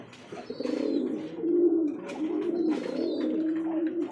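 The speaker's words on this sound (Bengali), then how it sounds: "ডানেরটা মাদি কবুতর ডাকতেছে" A female pigeon coos up close in repeated low, throaty, rolling phrases, with faint chirps from other birds in the background.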